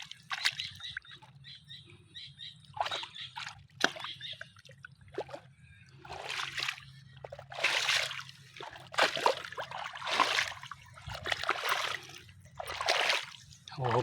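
Water scooped by hand and splashed in bursts out on a farm, repeated sloshing and splattering close by, with quiet gaps between scoops and a low steady hum underneath.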